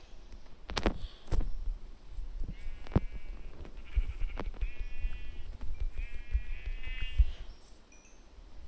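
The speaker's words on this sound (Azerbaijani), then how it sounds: "Qoyunlar var. Gəlin bura." Several short, clear Minecraft sheep bleats repeat at intervals over quiet clicks and thumps, with no talking.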